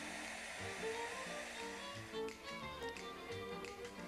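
Heat gun blowing a steady, whooshing stream of hot air over clear embossing powder on a stamped image, close and continuous with faint ticks and taps beneath.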